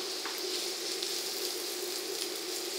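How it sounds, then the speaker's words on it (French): Steady, close sizzling and crackling of onions frying in hot oil, constant and even throughout with no voices. "Quand celle-ci est bien chaude, on peut y rajouter nos oignons."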